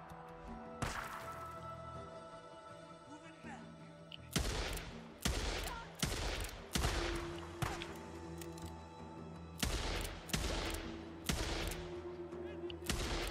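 Sniper rifle shots ring out in the video game Days Gone, a dozen or so sharp cracks with reverberant tails, spaced irregularly after an opening shot, with some trailing echoes and quieter game ambience between.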